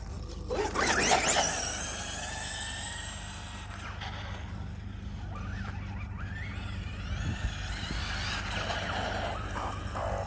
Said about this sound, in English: Just wanted to get a quick speed run in it, see what she's doing.